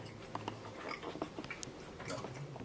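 A person chews a crunchy sandwich with mushroom and bell pepper, giving soft irregular crunches and bites up close at low volume with faint background noise.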